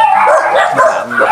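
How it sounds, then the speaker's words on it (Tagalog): Several dogs bark and yip close by in quick, overlapping bursts, loud and restless, with a whimpering edge between barks. "Daming aso dito."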